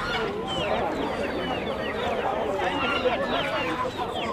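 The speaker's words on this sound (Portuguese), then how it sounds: "Aqui é capão, galinha, galo." A dense chorus of chickens, hens and roosters clucks and crows continuously at a busy open-air poultry and bird market, with voices mixed into the crowded background.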